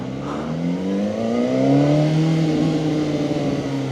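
A Voge RR500S inline-four motorcycle engine revs up loud and close, its pitch climbing smoothly toward high RPM and holding there in a steady, howling whine.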